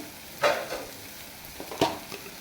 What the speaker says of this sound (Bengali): দিয়ে ভালো করে উপকরণগুলো নেড়ে চেড়ে নেবো।